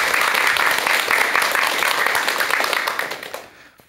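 Audience at a Korean lecture on happy old age applauds to welcome the speaking doctor: loud, dense clapping from many hands, holding steady before thinning and fading out near the end.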